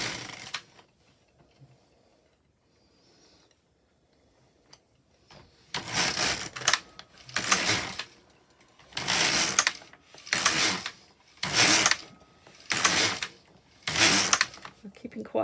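An LK150 knitting machine carriage is pushed back and forth across rows, making six loud rhythmic whooshing, clattering passes after a few quiet seconds.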